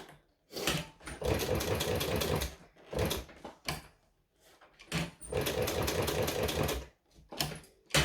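A sewing machine stitches a fabric strap in several bursts of rapid, loud needle chatter, separated by short pauses where the needle is lowered and the work is pivoted.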